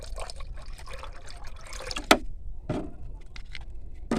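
Liquid tea-leaf plant food is poured into a small amount of water, quiet trickling and splashing in short bursts with a couple of sharper drips and container clinks, close and soft.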